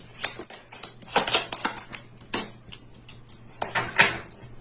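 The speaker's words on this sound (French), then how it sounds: "On va rajouter des cartes pour clarifier tout ça." Tarot cards dealt onto a table during a reading, a series of sharp, close taps and slaps at irregular intervals with short pauses between them, heard alone without talk.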